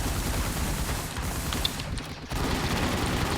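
Rapid continuous gunfire while shooting in the Toy Story Z video game, a dense loud fusillade that briefly dips near the middle before resuming at full intensity.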